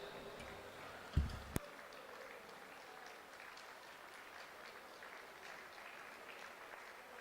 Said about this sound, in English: Ladies and gentlemen, keep your applause going for the gold medalist Australia and runners-up New Zealand.